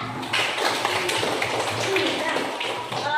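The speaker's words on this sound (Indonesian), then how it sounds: "tepuk tangan untuk Resya" Schoolchildren in an elementary classroom clap for a classmate, giving a dense, steady patter of many small hands that runs unbroken for a few seconds at moderate loudness.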